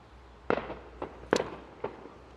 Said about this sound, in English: I hope those are fireworks going off in the back